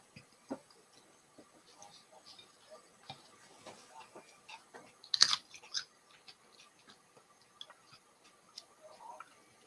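Dried chili pods being crunched and chewed, with scattered crisp bites and clicks spread irregularly, one louder crunch near the middle, close to the mic against a quiet background with faint voices.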